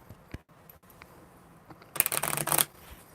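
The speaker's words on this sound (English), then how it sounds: "These are really weird. I mean, really weird cards to shuffle." Small mini tarot cards are riffled and shuffled in a quick, crisp burst of papery flutter lasting under a second, close and fairly loud, with quiet room tone before and after.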